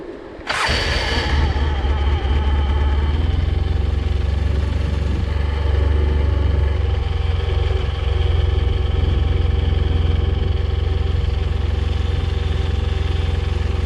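A Polaris engine cranks and catches after a moment, then settles into a loud, steady, rumbling idle that continues without change.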